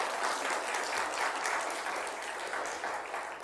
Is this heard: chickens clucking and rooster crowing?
no